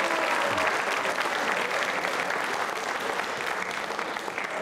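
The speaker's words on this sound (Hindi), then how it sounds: "तालियां बजाइए इस छोटी बच्ची के लिए।" An audience at a quiz show applauds for a little girl, loud sustained clapping from a full crowd that holds steady throughout.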